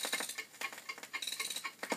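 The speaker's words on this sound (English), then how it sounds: "That was indeed the sound of me winding the alarm clock." A rapid series of small clicking, ratcheting ticks repeats in quick bursts, close up and crisp, as an alarm clock is wound.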